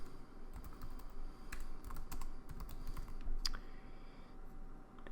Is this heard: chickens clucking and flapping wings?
no